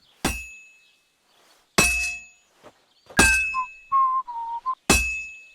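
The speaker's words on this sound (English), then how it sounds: "Now take the hammer and try hitting it a few times." Blacksmith's hammer striking a sword on an anvil in Kingdom Come Deliverance 2: four loud, ringing metallic clangs spaced about a second apart, with a short whistled tune between the third and fourth strikes.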